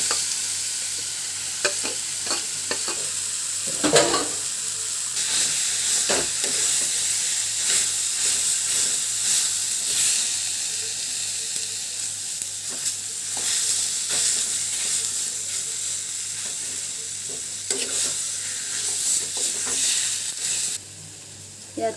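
Mashed potatoes stirred into onion and tomato frying in a pan, a steady sizzle with scraping stir strokes throughout, close and continuous with no talk.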